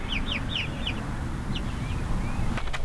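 Silkie chickens cluck in a coop, with a quick run of soft, rising clucks near the start followed by scattered single calls over a steady outdoor background, and a brief clatter near the end.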